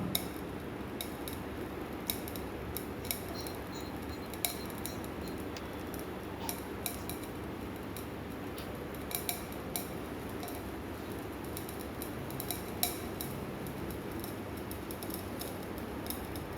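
Crystals heated until they decrepitate, giving off brown gas, with a steady run of sharp, irregular crackles and tiny pops spread throughout, fairly quiet and with no voices.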